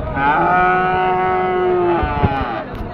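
A single long, loud cow moo sounds close by at Sonamukhi cattle market in Kazipur, Sirajganj, followed by a brief quieter knock and some faint background chatter.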